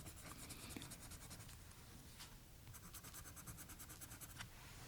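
A pencil colouring a Disney fairy godmother drawing, soft continuous scratchy strokes in quick back-and-forth rhythm, very quiet and close with faint room hiss.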